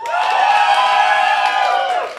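A crowd at a live game-show showdown cheers and shouts loudly in a sustained roar of voices, with little distinct clapping audible.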